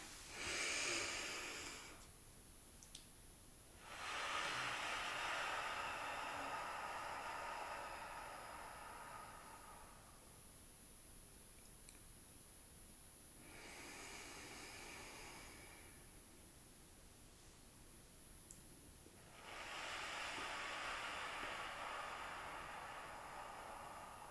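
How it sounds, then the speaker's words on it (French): Three deep breaths in a guided meditation, long airy inhales and exhales that rise and fall in slow waves, each lasting several seconds, separated by quiet pauses, close and soft, with no talking. "on va commencer par prendre 3 profondes respirations."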